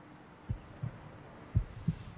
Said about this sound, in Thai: ที่เสียงหัวใจจ้า